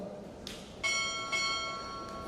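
A ship's bell at a navy chief petty officer pinning ceremony is struck twice, two clear ringing strikes about half a second apart, each leaving a sustained metallic ring in a quiet hall.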